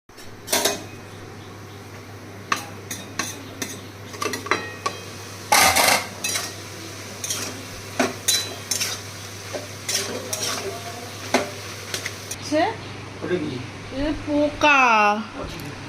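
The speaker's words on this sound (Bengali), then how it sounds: "আগে একটুখানি তরকারিটা নেড়ে দিই" A ladle scrapes and knocks around a cooking pot while a curry is stirred, giving repeated clattering metal strokes over a low sizzle, close by; a person talks near the end.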